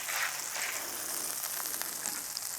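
A zander fillet sizzles in a pan with butter, a soft, steady crackle of frying heard close and fairly quiet, with no one speaking.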